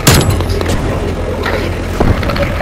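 Gunshots in the video game Call of Duty: Black Ops Cold War, a few sharp reports over a steady engine-like rumble, with a louder burst near the start and another about two seconds in.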